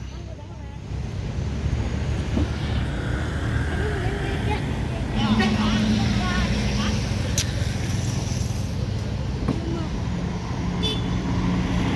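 A Pelala Duta Budaya bus pulls away on a Sumatran road, its engine drone and road noise steady under wind buffeting, while someone talks over it.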